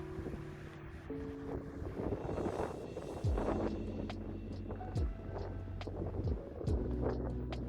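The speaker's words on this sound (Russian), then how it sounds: "В этом же месте, выше от моря, ветер довольно сильный." Strong wind buffets loudly and continuously high above the sea in Dalmatia, gusting in surges with low roaring rumbles and occasional sharp clatter.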